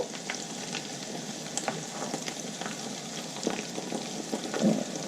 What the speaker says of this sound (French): Votre kachori va cuire, va se dorer